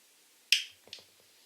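One sharp, close click followed by a few softer little clicks, quiet and brief, as the knob on a vintage C-Scope CS 1220 XD metal detector is turned until it catches.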